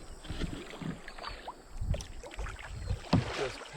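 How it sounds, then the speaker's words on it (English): A boat is paddled on the Cheyenne River. Soft, rhythmic splashes and swishes of the paddle sit under steady wind noise and rise and fall in repeated strokes at close range. "Just paddling away."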